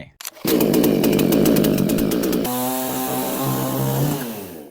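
A Dragonfly 5200 gasoline chainsaw, a 5,200-class engine rated about 5 horsepower, roars to life with a loud, steady buzzing rev, then drops to a lower, even drone as the throttle eases, close and continuous with no speech.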